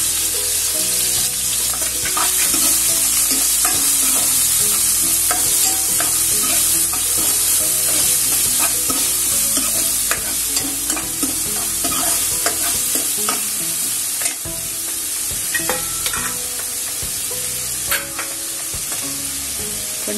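Onion frying in a pan of hot oil, with a steady, loud sizzle and crackle throughout, plus occasional scrapes and clinks of stirring, close by and without talk.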